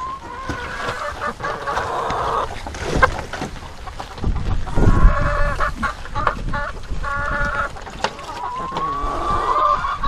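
Hens clucking in a small backyard coop, several birds calling in scattered bursts at close range, with rustling and movement between calls.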